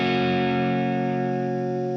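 An electric guitar with distortion, run through a NUX Verb Core Deluxe reverb pedal, holds a single chord that rings out thick and buzzy, slowly fading with a reverberant tail and no voices.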